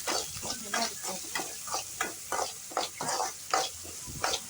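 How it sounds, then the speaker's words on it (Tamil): Sliced big onions and dried red chillies frying in oil in a pan in a village home kitchen, a soft steady sizzle broken by regular scraping strokes of a spatula stirring, fairly quiet and without voices. "பெரிய வெங்காயம் வரமிளகா போட்டு நல்லா தாளிச்சிக்கலாம்."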